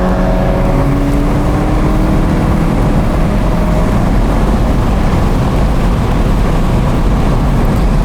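A Volkswagen GTI drives along with a loud, steady engine drone and dense road and wind roar inside the cabin, the pitch easing slightly as the throttle lifts, with no talking.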